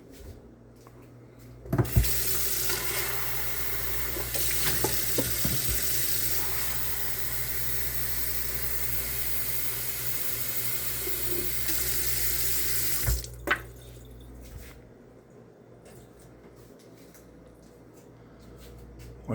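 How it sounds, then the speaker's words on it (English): Tap water runs steadily into a cup for about eleven seconds, a loud continuous splashing rush with a few clinks at the start and end. "I'm going to fill up the cup of water."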